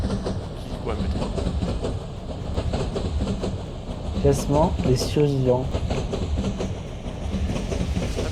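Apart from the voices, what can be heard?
train running on rails in a Roblox video game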